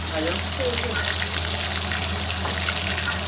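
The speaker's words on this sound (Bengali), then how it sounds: "এই দুটো পরে ভাজবো, ওটা ভেজে নিচ্ছি" Food frying in a pan in a home kitchen gives a steady, dense sizzle that holds at the same level from start to finish, with faint background sounds mixed in.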